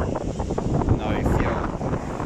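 Strong wind buffets the microphone during a motorcycle ride in steady rain, a loud rushing roar that fills the whole moment with no clear speech.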